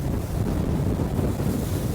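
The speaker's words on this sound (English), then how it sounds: "it's a shame the seas are kicking up quite so much as they are today" Arksen Discovery 8 motor boat pounding through rough, choppy seas, with a constant loud rush of wind buffeting the microphone over churning waves and hull noise, steady throughout with no voices.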